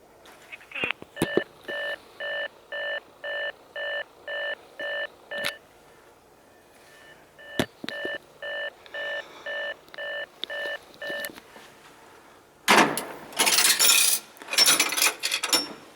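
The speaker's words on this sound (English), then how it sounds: "It sounded like a normal dial tone at first" A rapid series of electronic dialing tones in two bursts, evenly spaced beeps, followed by a louder harsh noisy signal at the end.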